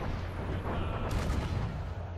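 Ship cannon fire in the naval combat game Assassin's Creed Rogue, a sustained heavy rumbling boom with a sharper blast rising partway through, loud and continuous with no talking.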